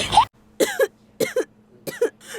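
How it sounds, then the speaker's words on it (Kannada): A woman coughs repeatedly nearby, a quick initial hack followed by four separate paired coughing bursts at a steady, even pace with silence between them, and no talking. "ರೀ, ನನ್ಗೆ 3 ತಿಂಗಳಿಂದ ಕೆಮ್ಮು ಸ್ಟಾರ್ಟ್ ಆಗಿದೆ."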